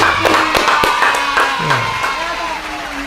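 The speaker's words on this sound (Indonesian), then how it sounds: "Oke, tepuk tangan dulu." A studio audience or group clapping hands, a series of sharp scattered claps mixed with background voices and crowd noise.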